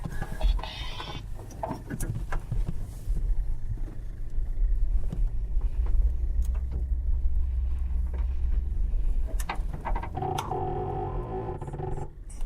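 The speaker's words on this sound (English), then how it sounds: "We're gonna bounce along the ground for just a minute, and then we're gonna take off pretty quick." A glider bounces and rumbles along the ground on its takeoff roll, a steady low vehicle-like rumble with scattered knocks and rattles lasting about twelve seconds.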